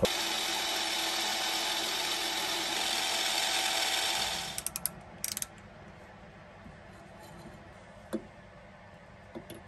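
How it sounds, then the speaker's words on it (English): A homemade flycutter on a milling machine takes a light cut, giving a steady broadband whir for about four seconds before it stops, after which faint ticks and clicks follow alone. "It's just taking a wee light cut."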